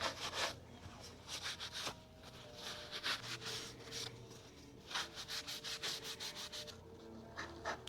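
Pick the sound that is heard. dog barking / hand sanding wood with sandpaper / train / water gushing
hand sanding wood with sandpaper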